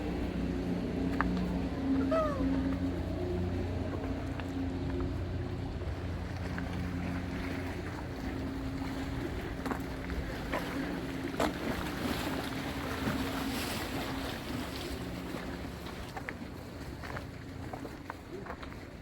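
A tour boat engine rumbles steadily on the river in Matka Canyon, North Macedonia, while wind buffets the microphone, and faint voices come and go in the background.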